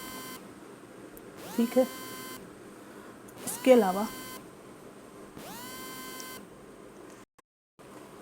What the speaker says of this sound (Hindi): सॉरी गाइस, किसी का फ़ोन आ रहा था।